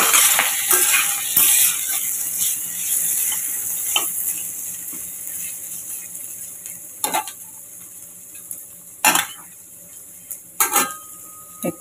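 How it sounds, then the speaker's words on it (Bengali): Dried curry leaves and onion fry in a pan for a Bengali home-cooked dish, giving a steady close sizzle with scraping stirs and several sharp metallic clinks from the utensil against the pan. "একটু ভাজা ভাজা হয়ে যাক।"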